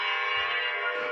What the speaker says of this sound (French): les cloches du Vatican retentissent partout là-bas à l'Italie.